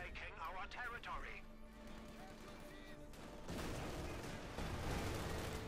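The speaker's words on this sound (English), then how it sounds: "There we go, opening up there, it's 37 flak, pushing back the captain" Company of Heroes 2 battle with a Flak Panzer's 37mm flak gun firing, heard as dense repeated gunfire mixed into ongoing battle noise, with someone talking over it throughout.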